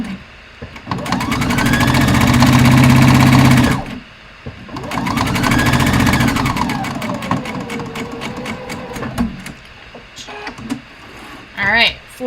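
A sewing machine stitches ties together in two sustained whirring runs of rapid needle chatter, pausing between, then slowing and stopping, with brief handling noises afterward.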